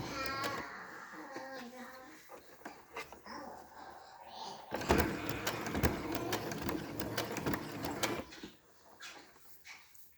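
A sewing machine fitted with a walking foot stitches a washable fabric face mask. There are bursts of rapid mechanical whirring, a stuttering start and then a louder sustained run, with faint voices or a child in the background.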